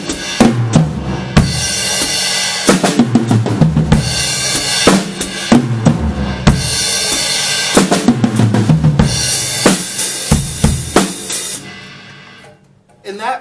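Drum fill rolling around the kit from snare through high, mid and floor toms, loud close strikes repeated in several passes with cymbal wash, no talking.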